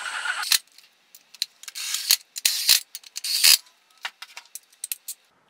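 Brake parts being bolted down during a big brake conversion on a Datsun 240z S30: a series of close metallic clicks, ratcheting and clinking of tools and hardware in short irregular bursts, with quiet gaps between.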